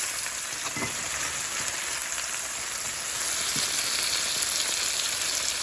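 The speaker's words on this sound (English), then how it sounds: "And we're going to flip it over. And we're going to brown the other side." Prosciutto-stuffed chicken browns in a hot pan with a steady, close, hissing sizzle that stays even and continuous throughout, with no talking.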